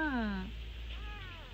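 A kitten at a campsite in Pocheon lets out one clear, high, falling meow up close, followed by a fainter second mew, with quiet ambience around it.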